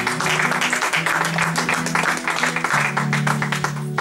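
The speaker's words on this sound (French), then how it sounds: "Acclamons très fort pour la gloire du Seigneur." A church congregation bursts into vigorous applause during a service, with dense, continuous clapping over sustained tonal notes underneath, fairly loud and close throughout.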